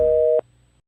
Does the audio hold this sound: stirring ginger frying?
no